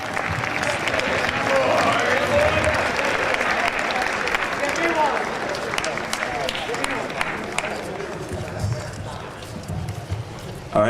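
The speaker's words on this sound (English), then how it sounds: "All right, a big round of applause for all Catholics." A rowing crew awards banquet audience applauds in a loud, busy wash of clapping with scattered thumps and a few cheers, tapering toward the end as a voice begins.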